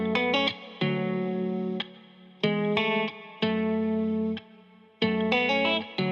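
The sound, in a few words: main intro guitar for dark ambient pop song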